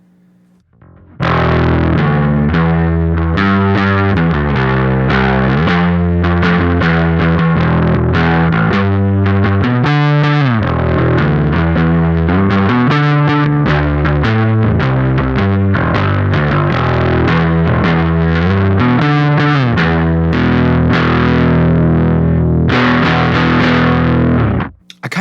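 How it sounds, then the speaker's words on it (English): Electric guitar played through an O.C.E. Lineman drive pedal with the drive turned down, giving a full, round, lightly overdriven tone; loud, sustained chords and melodic runs ring out continuously for about 24 seconds with no talking. "let's go ahead and hear how the drive sounds when we turn it down just a tiny bit"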